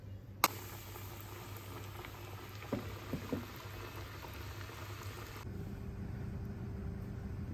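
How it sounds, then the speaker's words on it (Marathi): Stuffed bombil fish rolls, coated and fried in hot oil, set off a steady, fine sizzle and bubbling with a few soft pops, quiet and close, with no talking. "तर आता मी हे तळायला घालते."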